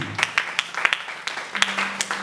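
A church congregation claps to acclaim Jesus at a worship service, with sparse, irregular claps close by and a faint voice underneath.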